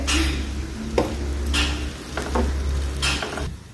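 Cheesy garlic bread grilling in butter in a pan, giving a steady, fairly loud sizzle with a few scraping touches as it is moved, and no talking.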